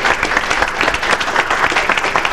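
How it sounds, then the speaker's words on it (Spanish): A studio audience on an 1980s Argentine television show bursts into loud, close applause, a dense continuous clatter of many hands that fills the short stretch with no voices. "Y atención, por favor, fuerte el aplauso"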